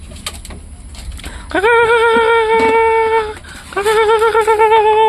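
Pigeons coo loudly and close by while being fed, giving two drawn-out throaty coos with faint clicks and rustling between them.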